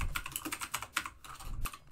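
Rapid, irregular clicking of a computer keyboard during fast typing, with close, crisp keystrokes arriving in uneven bursts and brief pauses, heard on its own without speech.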